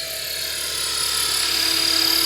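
A Blade Fusion 360 RC helicopter flies nearby with a high, steady whine of motor and rotor blades that builds slightly in loudness, with no voices.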